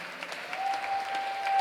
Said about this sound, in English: Give yourselves a round of applause for being such a good audience.